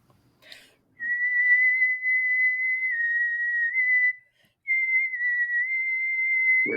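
A person whistles a long, steady high note, pauses briefly, then carries on with another sustained tone.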